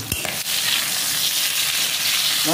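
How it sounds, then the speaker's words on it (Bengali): Fish pieces fry in hot oil in a close, continuous, fairly loud sizzle that swells after a brief knock at the start, with no voices. "মাছ ভাজা তো হয়ে গেল"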